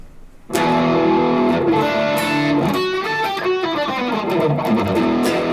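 A distorted electric guitar with chorus placed before the amp strikes a loud chord and plays held notes with a warbling, modulated shimmer, no voices present.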